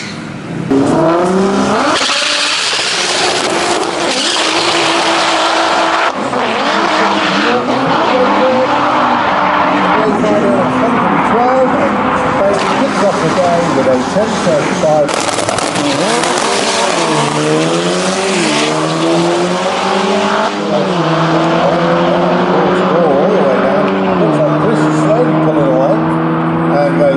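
VW GTI cars bracket racing on the drag strip at Santa Pod Raceway, engines roaring loud and continuous with rising and falling revs and tire noise, a commentator's voice running over the top throughout.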